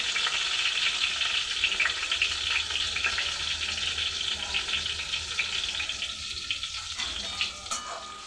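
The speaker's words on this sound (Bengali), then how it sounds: "পটলও ভাজা হয়ে গেল" Pointed gourd frying in a pan, a soft steady sizzle with faint scraping and a brief watery patch near the end, no talking.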